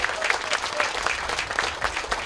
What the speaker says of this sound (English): Please give everyone in Team Havel a round of applause.